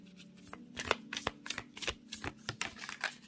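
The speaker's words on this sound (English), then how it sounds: "Let's try to shuffle again." Oracle cards are shuffled close up in a quiet room, a rapid series of crisp riffling snaps and soft slaps coming in uneven bursts with no talking.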